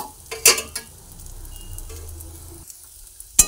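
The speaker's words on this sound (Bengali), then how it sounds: "হলুদ আর নুন দুটো দিয়ে একসঙ্গে আবার একটু ভালোভাবে মিশিয়ে ভেজে নিচ্ছি" Green papaya with turmeric and salt sizzles steadily as it is stirred and fried for a vegetarian rice-and-papaya dish, with sharp spatula scrapes near the start and again at the end.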